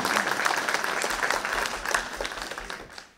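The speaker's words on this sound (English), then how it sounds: "Just a hand of applause to her again." An audience at a university alumni panel on Black student history gives a warm round of applause. The clapping is steady and full, then tapers off sharply at the end.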